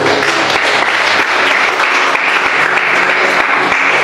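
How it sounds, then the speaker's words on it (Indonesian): A church audience breaks into sustained applause, a dense, steady wash of clapping that fills the whole stretch at full loudness with no voices standing out. "Kasih tepuk tangan dulu."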